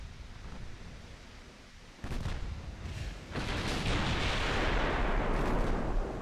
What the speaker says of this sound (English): That was a terrible salvo